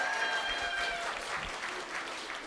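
An audience at a spring recital applauds a performer with steady clapping throughout, filling the room with a continuous, moderately distant patter.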